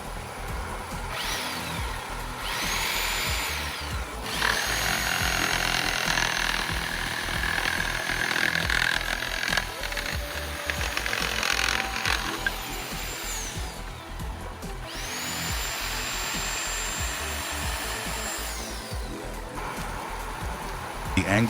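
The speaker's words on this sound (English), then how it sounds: "Like this chainsaw," A small motorized saw runs steadily, its engine whine revving up and down repeatedly over a constant mechanical drone.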